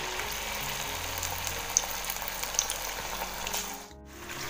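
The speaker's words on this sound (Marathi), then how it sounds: "असे चांगले असे क्रिस्पी आणि ब्राऊन कलरचे होईपर्यंत असे व्यवस्थित आपल्याला तळून घ्यायचे" Paneer snacks deep frying in hot oil until crisp and brown, a steady close sizzle with small crackles that suddenly drops away near the end, no speech.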